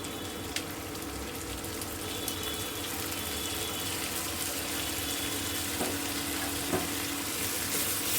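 Dried ribbonfish frying in a pan with oil, a steady, soft sizzle running throughout with a few faint clicks of stirring, fairly quiet and without any voice.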